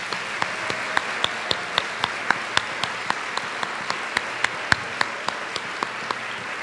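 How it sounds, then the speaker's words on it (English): Applause at a school staff convocation, a broad wash of crowd clapping punctuated by sharp, regularly spaced loud claps close by, steady for the whole stretch. "Can we give them a round of applause?"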